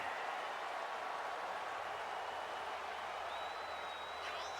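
A wrestling arena crowd cheers and applauds in a continuous, distant, fairly quiet roar with a faint whistle near the end.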